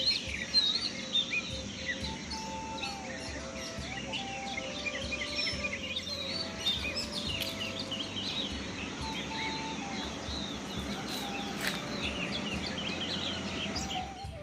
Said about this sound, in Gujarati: અત્યારે મસ્ત પક્ષીઓ પણ બોલી રહ્યા છે.